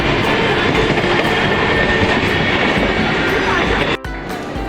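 Train pulling into a Mumbai local station, a steady loud rumble of wheels and carriages filling the whole clip, with crowd voices mixed in and a brief dip near the end.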